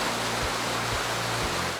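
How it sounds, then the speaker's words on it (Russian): A mountain stream in the Chechen Republic murmurs and rushes in a steady, dense wash of water, close and even throughout, with faint low thumps beneath. "Здесь можно стоять часами и просто слушать журчание воды."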